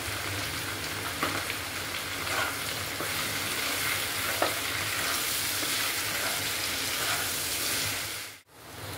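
Onions frying with salt in a pan give a dense, continuous close sizzle with faint stirring ticks. The sound cuts out abruptly just before the end.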